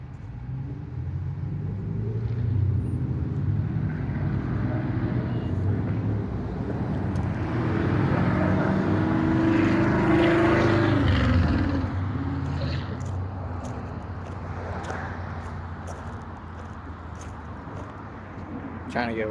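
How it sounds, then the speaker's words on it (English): Road traffic rumbles past, a low engine drone that swells to a peak and slowly fades, heard from nearby. "Trying to get away from this traffic."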